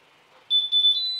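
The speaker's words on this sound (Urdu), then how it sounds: "یہ بیپ کے ساتھ آن ہوا" A multi gas detector (LEL meter) with four gas sensors switches on with a loud, close, high-pitched electronic beep in a few quick pulses.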